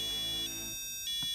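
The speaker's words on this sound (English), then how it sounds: "It will alarm again." A homemade espionage alarm system going off, giving a close electronic tone with harmonic layers that drops in pitch partway through, then a brief beep near the end, with no one speaking.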